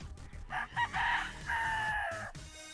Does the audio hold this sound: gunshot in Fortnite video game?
no